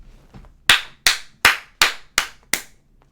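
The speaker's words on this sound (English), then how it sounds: "I just clap when I don't know what to say" Six sharp, evenly spaced hand claps ring out loud and close, each with a quick decay, ending in a faint tap.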